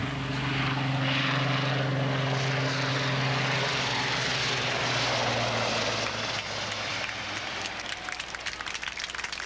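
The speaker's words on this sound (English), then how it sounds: "That is the most maneuverable helicopter in the military today." A Kaman military helicopter flying by, heard as a loud, steady droning roar with strong low engine tones that fade as it passes. The rotor noise then turns into a rapid chopping flutter toward the end.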